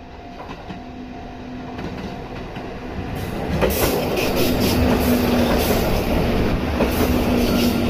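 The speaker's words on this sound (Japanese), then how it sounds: "説明していたら普通列車が来ましたね" A local passenger train rolls along the tracks by the freight terminal at Takachaya Station in Japan, a steady rumble that swells after about three seconds, with wheel clatter and a thin squealing tone, heard without talk.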